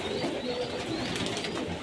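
Young squab pigeons cooing inside a pigeon loft on a pigeon farm, a soft, continuous murmur of overlapping coos heard faintly against a hissy background.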